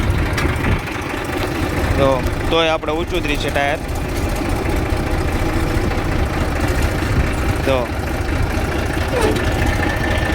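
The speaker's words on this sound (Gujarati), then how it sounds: "તો ટ્રેક્ટર ચાલુ કરી અને પાછું મારી દેવી." A tractor engine idles with a steady low rumble throughout while someone talks over it nearby.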